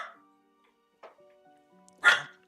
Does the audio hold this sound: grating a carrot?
no